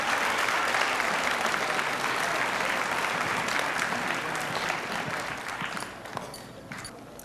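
A school auditorium crowd gives a sustained round of applause at an 8th grade awards ceremony, dense and loud clapping that holds steady and then thins out slightly toward the end.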